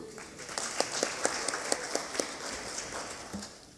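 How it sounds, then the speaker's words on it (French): Audience applause fills an assembly hall, a dense wash of many hands clapping with a few louder claps standing out, fading slightly toward the end. "nous considérons vos applaudissements comme adoption de la motion de remerciement"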